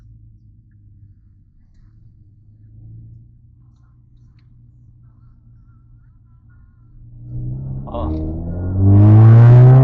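A VW Jetta 2.0 TSI idles with a low, quiet rumble at night, then its engine climbs sharply into a loud, rising rev near the end, with a brief voice exclamation.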